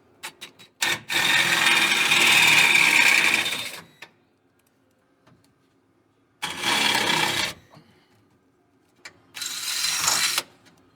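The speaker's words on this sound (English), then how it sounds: "Pretty nice to have that 90-degree drill." A right-angle 90-degree drill enlarges a hole in a 1981 Ford F100 cross member, giving three bursts of high whirring and grinding, the first long and the last two shorter, with quiet gaps between them.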